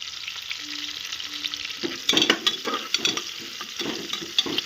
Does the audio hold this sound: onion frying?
yes